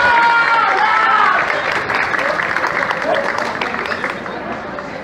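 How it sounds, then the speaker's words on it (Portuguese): A crowd at a railway station applauds a police dog named Dragon after a canine unit demonstration, a loud, dense wash of clapping with a shout rising over it and voices mixed into the noise. "Uma salva de palmas pro Dragon aí."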